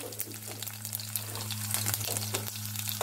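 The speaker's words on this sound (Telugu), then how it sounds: "ఇప్పుడు వెల్లుల్లి రెబ్బలు పచ్చాగా పెట్టుకోవాలి." Garlic cloves and mustard seeds frying in hot oil make a steady, close sizzle with fine crackling and scattered small pops throughout.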